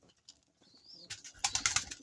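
Pigeons being fed grit give soft coos and short calls, faint at first and then a brief louder burst of fluttering, pecking sounds close by.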